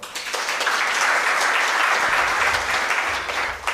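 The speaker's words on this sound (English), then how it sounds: "Please give them a clap." Enthusiastic crowd applause at a scientific conference, dense and steady clapping throughout, with a little cheering mixed in.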